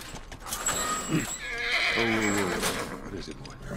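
Horse in The Last of Us Remastered gives a loud, wavering whinny mid-clip, with hooves clip-clopping and quiet game ambience around it.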